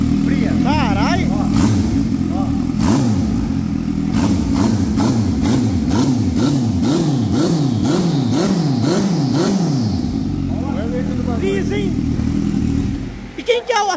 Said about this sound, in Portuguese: Agora, traga o funcionamento desse motor aqui, ó.